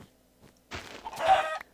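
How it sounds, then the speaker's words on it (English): A couple of short clucking calls from chickens in a blocky survival video game, close and fairly loud against quiet surroundings, the second burst longer and raspier than the first. "I'm going to try to kill some chickens over here"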